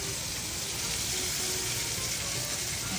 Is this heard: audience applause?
no